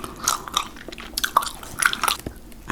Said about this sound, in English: I will chew this Big League Chew, the original flavor